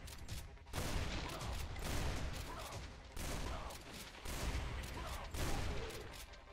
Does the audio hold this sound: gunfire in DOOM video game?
yes